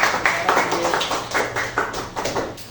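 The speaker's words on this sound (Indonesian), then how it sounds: "Kita beri tepuk tangan kelompok tiga" A classroom of students claps for group three after their presentation, a short burst of rhythmic, fairly close clapping with accented beats in a steady pattern, no talking over it.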